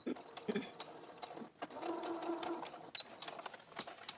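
Sewing machine stitching over a fabric face mask, a close rapid mechanical whir in short bursts with pauses and small clicks between runs.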